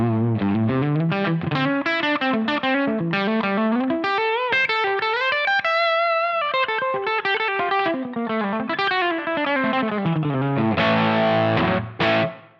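Electric guitar with a single bridge P90 pickup, run through a Line 6 Helix, plays a distorted, effects-laden melodic passage of sliding and sustained notes. It stays loud and steady throughout, then a final strummed chord rings out and stops abruptly.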